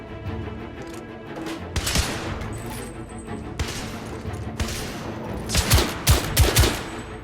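Gunfire in The Order: 1886, bursts of sharp shots and rapid volleys building toward the end, several loud close blasts over a noisy battle background.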